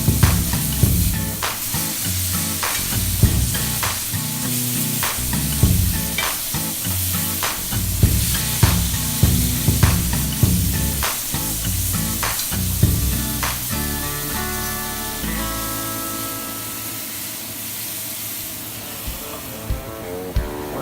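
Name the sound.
burgers sizzling while frying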